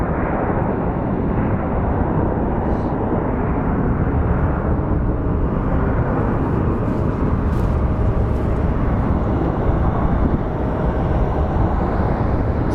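An ABX Air cargo jet passes at Phoenix Sky Harbor International Airport, making a loud, steady broadband roar that holds evenly for the whole stretch with no talking.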